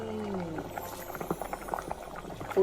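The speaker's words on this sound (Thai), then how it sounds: "ให้ปิดฝาไม่ต้องคนรอเดือดดูการเดือดแล้วทุกคน" Pumpkin curry with pork boils in a covered pot, steady bubbling and popping close by, with a voice speaking briefly at the start.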